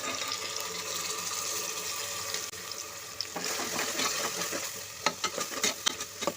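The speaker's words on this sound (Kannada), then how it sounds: "ಒಂದು 2 ನಿಮಿಷ ಚೆನ್ನಾಗಿ ಫ್ರೈ ಮಾಡ್ಕೊಳ್ಳಿ." Chilli paste for a mushroom biryani frying in a pan makes a steady, close hiss, with sharper crackles and a few spatula taps toward the end.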